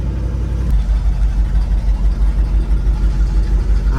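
A car engine runs loud and close in a shop during air-fuel ratio tuning, a steady low idle with slight rises in pitch as it is revved, with no voices over it.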